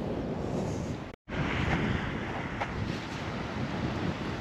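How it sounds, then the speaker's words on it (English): Blustery coastal wind roars steadily against the microphone beside the sea, with a dense, loud rush of surf and gusts and a brief cut to silence near the start. "You'll have to forgive the wind, guys, because it's a bit blustery."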